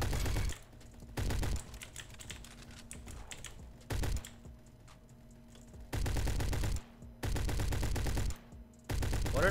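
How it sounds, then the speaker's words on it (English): Weapons fire in the Roblox game Jailbreak, a shooter firing from long range: several loud, abrupt bursts of rapid shots separated by quieter gaps, with a steady low hum between them. "He's shooting from that far."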